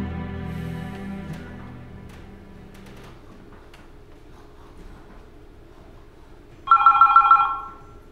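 A telephone rings once in a short, loud burst near the end, following quiet background hum and faint sounds inside a boutique.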